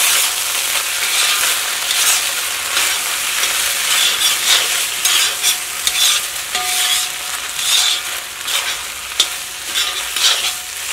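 Broken wheat upma is mixed in a pan, the spatula scraping again and again in an uneven rhythm over a soft frying hiss, loud and close with no speech.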